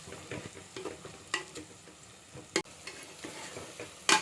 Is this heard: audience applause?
no